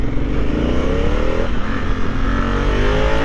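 A Honda Africa Twin 1000cc twin-cylinder motorcycle engine revving up loud and close, pitch rising steadily as it accelerates.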